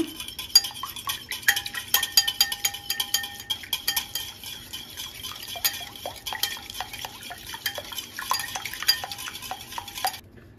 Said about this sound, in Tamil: இப்போ ஒரு பவுலில் ரூம் டெம்பரேச்சரில் உள்ள 2 முட்டையை உடச்சி ஊற்றிக்கலாம். இதை நல்லா பீட் பண்ணிக்கோங்க.